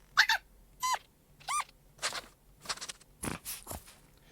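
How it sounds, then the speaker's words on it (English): Idle sounds of a Minecraft fox in a video game: a run of about eight short, separate chirps and yips, some of them sweeping in pitch, with brief gaps between them. They are close and moderately loud, with no voices. "When it's idle."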